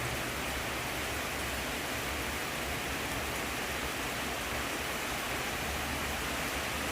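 Steady, dense hiss of rain pouring down at a garden home in Chanthaburi, Thailand, even and unbroken throughout, with no voices or other distinct sounds.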